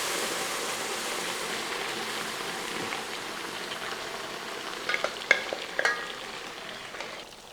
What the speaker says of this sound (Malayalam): ഇനി നമുക്ക് ഈ കുക്കറിനകത്തിരിക്കുന്ന ഇറച്ചി എല്ലാം കൂടെ അങ്ങോട്ട് ഇട്ട് കൊടുക്കും.